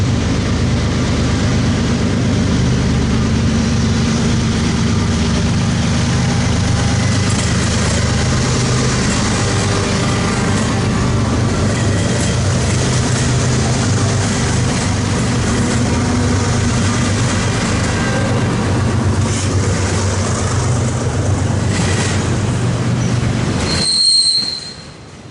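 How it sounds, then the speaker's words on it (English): An eastbound freight train rolls past on Main 2 near Commerce, a loud continuous rumble with metallic wheel squeal sustained for over twenty seconds, cutting off abruptly at the end. "Got an eastbound about to pass right now on Main 2"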